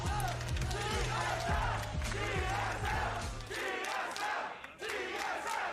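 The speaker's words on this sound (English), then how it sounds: "The crowd goes wild." A League of Legends watch party crowd roars and cheers after a match ends, loud overlapping shouts and whoops filling the room alongside rhythmic music or chant-like beats in the background.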